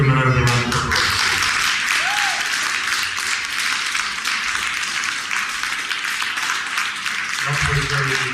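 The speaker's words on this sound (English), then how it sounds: "If we could give him another round of applause." Sustained audience applause for a speaker at a Black History Month event at the Leeds West Indian Centre, dense and steady clapping for several seconds, with a voice briefly heard at the start and end.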